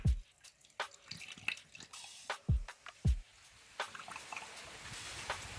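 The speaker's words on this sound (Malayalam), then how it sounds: "ഇവിടുന്നേ വെള്ളം ഒഴിച്ചു കൊടുക്കണം കേട്ടോ എന്നാലേ വെള്ളം കയറില്ല" Water is poured little by little into a water pump motor to prime it, heard as quiet, irregular drips and splashes with a soft trickle between them.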